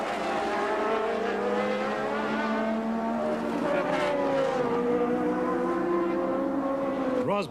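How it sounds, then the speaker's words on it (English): Formula 1 race cars from the 1982 season, Renaults and Ferraris, scream past with high-pitched engines rising and falling in pitch, loud and continuous, with a sharp new engine swell at the very end. "Up at the front, the Renaults were racing the Ferraris."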